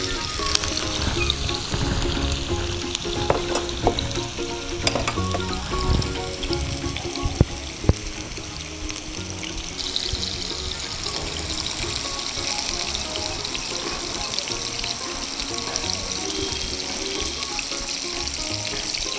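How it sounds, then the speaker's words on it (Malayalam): Parrot fish frying in a pan, a continuous dense sizzle and crackle of hot oil with scattered pops and spits, steady and close throughout with no talk. "രണ്ട് പ്രാവശ്യമായിട്ട് വറുത്തെടുക്കാം അല്ലേ."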